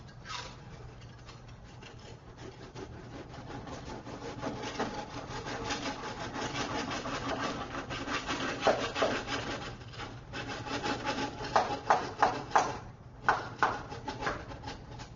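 A serrated knife saws through a wood fiber insulation batt on a Finsel Cut 100 cutting station, a close, steady scratchy rasping that builds into sharper, rapid strokes near the end.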